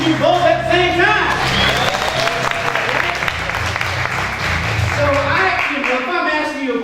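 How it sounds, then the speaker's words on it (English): An audience at a Soul Center OC gathering stomps its feet and claps its hands together on cue. The result is a dense, continuous roar of claps and thuds that holds steady for several seconds, with voices mixed in underneath. "let me hear you stomp your feet a little bit. And let me hear you clap your hands a little bit."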